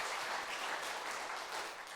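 Dense, steady applause from a church congregation during an afternoon youth service, a continuous wash of many hands clapping at even loudness for the whole stretch with no voices over it.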